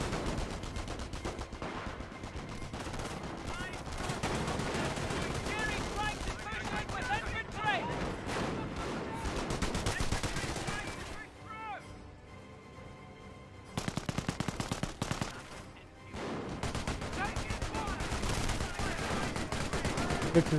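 A machine gun emplacement in Company of Heroes fires long, relentless rattling bursts amid a busy battlefield, with a short lull and a sharper burst partway through, and a commentator talking over much of the shooting.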